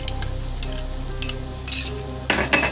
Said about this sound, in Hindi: अब हम इसमें एक बाउल मलाई डालेंगे